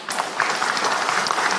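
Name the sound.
audience applause for the Deputy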